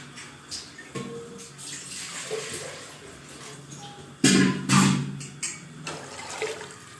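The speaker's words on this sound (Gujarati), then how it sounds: "તો હવે આપણે પાણી નાખી દીધું છે અંદર" Water poured into a cooking pot for dal dhokli, a close, continuous splashing rush with a louder surge partway through.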